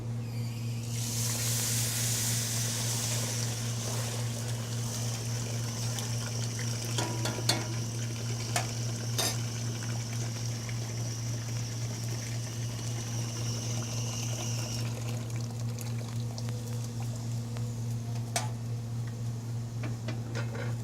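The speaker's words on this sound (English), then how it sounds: "So now I'm just going to put some water in there." Water pours in a steady, hissing stream into a cooking pot of rice and salt for roughly fourteen seconds. A constant low electrical hum runs underneath, with faint clinks and no talking.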